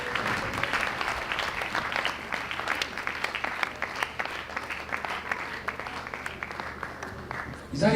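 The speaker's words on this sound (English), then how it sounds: "Please keep clapping," Continuous audience clapping at a university College of Education conference in Calabar, Nigeria, dense and steady throughout with faint voices underneath, ending in a louder burst.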